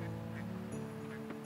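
Farm ducks in the video game Coral Island quack and honk steadily over a constant, fairly quiet ambient game soundtrack, with no voices.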